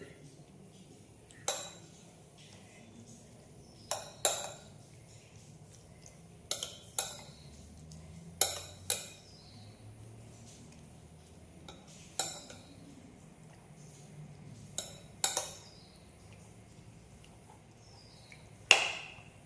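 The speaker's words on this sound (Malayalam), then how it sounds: "നന്നായിട്ടൊന്ന് മിക്സ് ചെയ്യാം." A spoon stirring rice gruel (pazham kanji) with thick curd in a bowl, sharp clinks in spaced bursts over a quiet background, close and clear.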